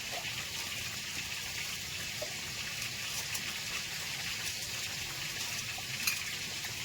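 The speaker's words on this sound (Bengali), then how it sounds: "বিরিয়ানির জন্য এর মধ্যে দিয়ে দেবো গোটা জিরে পরিমাণ মতো, এখানে দিয়ে দেবো আদা রসুন লঙ্কা পরিমাণ মতো" Whole cumin, ginger, garlic and chilli frying in oil for a biryani, a quiet, steady hiss and crackle with faint scattered pops and no talk.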